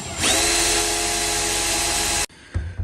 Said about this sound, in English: when you're drilling this hole, you want to try to make it as straight as possible